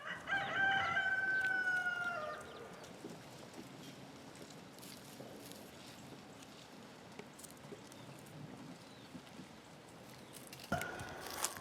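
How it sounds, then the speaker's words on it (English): Free-ranging backyard chickens: a rooster crows loudly at the start, then hens cluck softly and scratch around nearby over a quiet outdoor background, with a sharp knock near the end. "If only these chickens could dig a little bit deeper."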